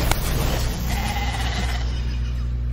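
Sheep bleating in the video game Divinity: Original Sin 2 Definitive Edition, heard over a steady dense game soundscape, with a sustained bleat tone running through the middle.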